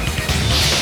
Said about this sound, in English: The killer smashed the monitor to pieces